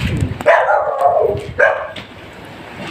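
A dog gives two loud, drawn-out husky barks close by, followed by quieter whimpering sounds.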